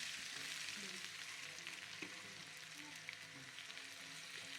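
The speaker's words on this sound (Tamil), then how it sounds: "கருவேப்பமிலையும் போடுறோம் எல்லாம் வதங்கட்டும்" Curry leaves and onions frying in a pan for an okra gravy, a faint, steady sizzle with soft crackles and an occasional stir, no voices.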